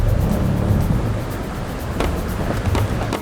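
Car crawls slowly over rough terrain, a low steady engine rumble with bumps and rattles from the rough ground, no talking.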